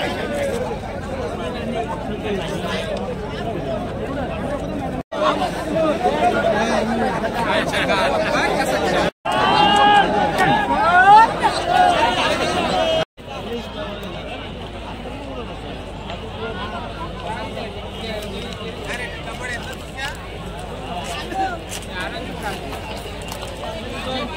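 A large crowd at a rural bullock-cart racing fair murmurs and chatters all around, loud and continuous, with a few nearer voices rising briefly above the babble and short breaks in the sound.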